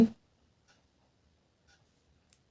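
A pen writes numbers on paper in a quiet room, making a few faint, widely spaced scratches and taps with near silence between them.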